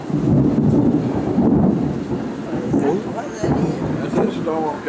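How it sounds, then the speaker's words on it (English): A thunderstorm approaching from the south, heard from a house: loud, continuous rumbling thunder fills the whole stretch with rolling swells, rain mixed in, and faint voices beneath. "That's a storm coming in."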